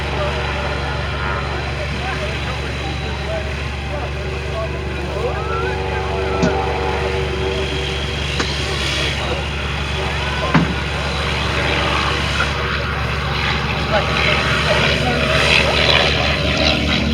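A microlight aircraft takes off from a grass airfield on a windy open day, its propeller engine droning steadily at moderate distance over wind noise and a low background hum.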